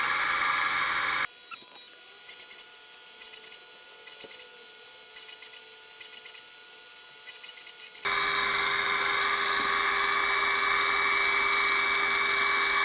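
A drill bit ground on a sharpening grinder for four-facet points, a steady high whining hiss with a sudden change in tone partway through as the bit touches and leaves the wheel, heard alone.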